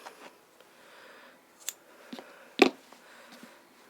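Scissors trim the yarn ends on a chunky crocheted rainbow pom scarf, giving a few sparse snips close by. One sharp cut stands out above the quiet room.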